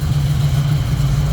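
A 1967 Pontiac Firebird coupe idles with a steady, close, low rumble, its engine note holding even and unbroken throughout with no voices over it.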